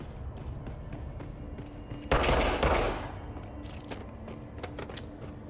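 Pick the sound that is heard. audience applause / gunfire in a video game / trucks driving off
gunfire in a video game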